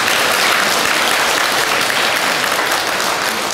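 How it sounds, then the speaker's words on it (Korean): Audience applause at a Buddhist temple gathering, a dense, steady and loud clapping that fills the whole moment without pause. "우리 회장님을 위해서 다시 한번 박수를."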